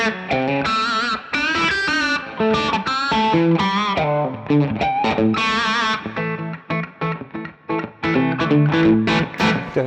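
An S-style electric guitar with an ash body and maple neck plays a busy, distorted lead through a higher-drive setting on the bridge pickup. Notes and chords are loud and choppy, with short gaps between phrases.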